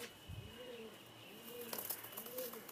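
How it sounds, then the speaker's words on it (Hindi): A slate Kamagar pigeon with bright red eyes coos softly, three rolling coos in slow succession, close but faint, with light rustling noises. "कितना खूबसूरत कबूतर है ये"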